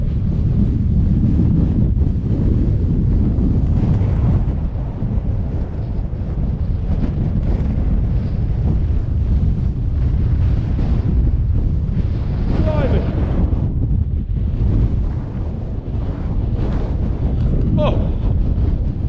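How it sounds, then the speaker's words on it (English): Strong wind roars across an open beach at Pembrey in Wales, a loud, constant buffeting rumble on the microphone that drowns out much else, with voices talking to a dog over the gusts. "So windy."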